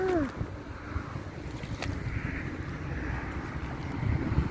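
Strong wind gusts across an open field by a rice-paddy fishing spot, causing continuous low rumbling buffeting against the microphone that swells and eases throughout.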